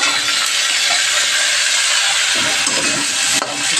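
Onions and eggplant sizzle in hot oil in a pan for a fish-fat curry: a steady, loud, close frying hiss that runs the whole time with no voices.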